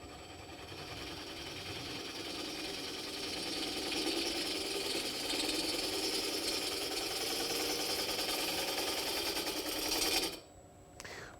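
A Tormek sharpener running a diamond wheel while a woodworking tool's factory grind is shaped, a steady buzzing hum with a scraping texture that swells slightly, then stops abruptly near the end, leaving a quiet tail.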